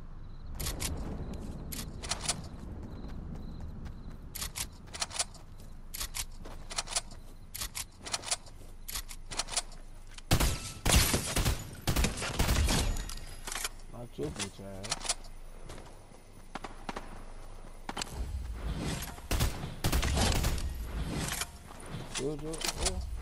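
Gunfire in a shooter video game crackles in scattered bursts of sharp shots, some close and loud, others distant, running under a player talking throughout.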